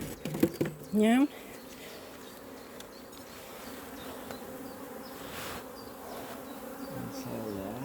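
Honey bees buzz in a dense, continuous hum around an open hive during a split made with queen cells, with a few louder buzzes passing close early on and the drone holding steady throughout.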